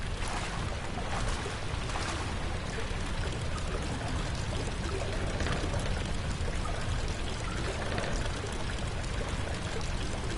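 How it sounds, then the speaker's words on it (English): Water leaks and pours from a loose pipe in a sewer in Amnesia: The Dark Descent, a constant splashing rush that stays steady and fairly soft throughout, with no speech. "One pipe is loose and leaking water."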